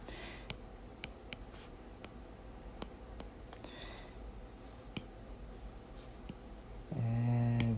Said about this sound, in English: I'm going to write a little small and fit them in there